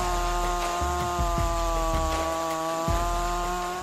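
A Stylemis 500E chainsaw with a 36-inch Tsumura bar runs loud and close, its engine droning at steady high revs with several brief dips in pitch as it bites into logs.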